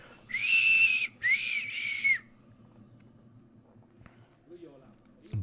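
A referee's whistle at a Juventus vs Pisa Serie A football match gives two shrill blasts close together, each about a second long, then crowd murmur and low stadium noise carry on.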